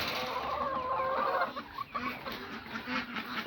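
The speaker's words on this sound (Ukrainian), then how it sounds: "Кури вже хочуть йти спати." Chickens cluck and chatter nearby, a busy overlapping flock with a few sharper squawks partway through.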